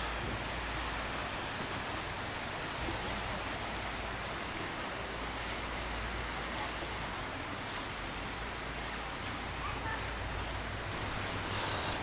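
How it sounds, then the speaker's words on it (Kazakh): A river flows through the botanical garden in Tbilisi, its steady broadband rushing holding at an even, fairly quiet level throughout without pause. "Мындай өзен ағып жатыр."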